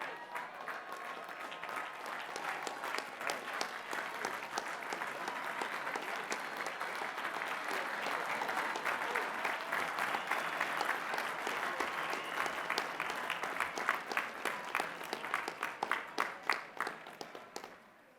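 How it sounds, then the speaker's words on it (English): Sustained applause from a large commencement audience for the graduates at Lehigh University's spring ceremony, dense crowd clapping that builds gradually over many seconds, then breaks into sharper, louder individual claps before fading out. "So let's give all of our graduates a round of applause for that."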